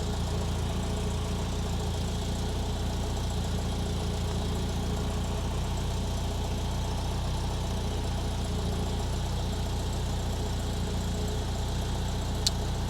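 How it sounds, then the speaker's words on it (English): An Alfa Romeo 2.0L Twin Cam engine, freshly rebuilt, idles steadily and smoothly at close range, a constant low hum and vibration with no talk and only a tiny click near the end. "this motor is running completely smooth"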